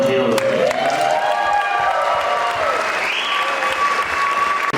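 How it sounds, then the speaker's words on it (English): Sustained applause from a concert audience after a Celtic-style cover, steady and dense with tonal music or feedback lines ringing over it, fading slightly toward the end. "we give a round of applause for Gavin and Caleb."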